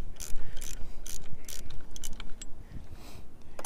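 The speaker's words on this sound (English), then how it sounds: "12 millimeter socket wrench" A 12 millimeter socket wrench ratchets on a bolt of a 15 hp Yamaha outboard motor during water and fuel pump work, giving close, crisp clicking bursts in a quick irregular rhythm.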